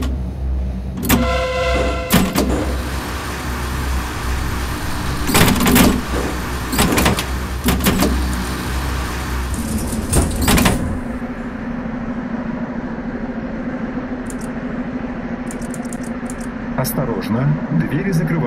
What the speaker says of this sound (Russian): Осторожно, двери закрываются.